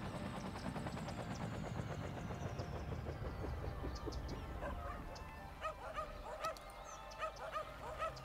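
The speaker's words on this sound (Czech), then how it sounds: "Mají pejsky na prohledávání sutin." Search-and-rescue dogs bark and yip repeatedly over collapsed rubble in the Cities: Skylines disaster simulation, the rapid barks layered over a steady low engine-like rumble, growing sparser and more distinct toward the end.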